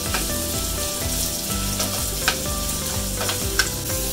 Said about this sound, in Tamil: இப்போ இதை நல்லா வதக்கிட்டு இருக்கோம் இல்லையா